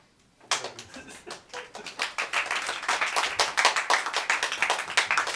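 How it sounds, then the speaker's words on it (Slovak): Several colleagues clap at a slam poetry event in Michalovce: a sudden burst of close, sharp handclaps that keeps going as a steady, fairly dense patter, with no talking over it. "Som rád, že aspoň kolegové tleskajú teda"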